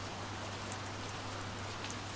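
Steady rain falls at night in a dense, even hiss of drops on surfaces, constant and close with no voices, used as an audio drama sound effect.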